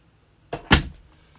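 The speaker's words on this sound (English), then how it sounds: "Just listen to this. When I shut this door," A motorhome bedroom door being pushed shut, giving a quick knock followed by a solid, louder thud close by, then quiet.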